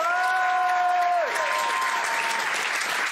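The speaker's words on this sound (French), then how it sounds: "on applaudit Benjamin s'il vous plaît" A studio audience bursts into dense, sustained applause for a guest named Benjamin on a French talk show, loud and continuous throughout, with a brief gliding musical tone fading out near the start.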